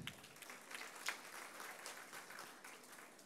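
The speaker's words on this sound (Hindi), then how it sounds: "ज़ोरदार तालियां।" Audience applause at a meditation programme, a steady spread of clapping from a seated crowd, fairly quiet and even throughout.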